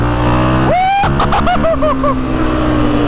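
Can-Am DS450 quad engine revving hard while riding in fifth gear, a loud close roar with rising and falling pitch sweeps as the throttle opens and shifts, continuous for a few seconds.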